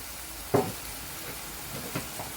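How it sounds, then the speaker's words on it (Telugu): Broccoli and potato fry in a pan with salt and turmeric as a soft, even sizzle, broken by one sharp utensil knock and a few lighter stirring taps. "ఇప్పుడు దీన్ని బాగా వేయించేసుకోవాలి."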